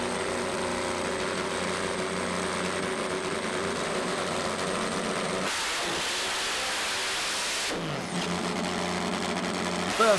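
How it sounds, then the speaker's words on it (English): Three-cylinder supercharged drag racing motorcycle at a European Finals drag strip, a loud sustained high-pitched engine drone that surges in a hard launch, cuts back briefly, then roars again, with faint voices underneath. "this event also sees the competition debut of a brand new 3-cylinder machine ridden by Al"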